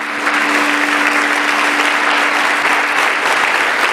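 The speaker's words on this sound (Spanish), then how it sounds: "¿Cuántos aplauden todavía el nombre del Señor?" A church congregation applauds in a sustained, dense wash of clapping that stays loud and even from start to finish, with no voices rising above it.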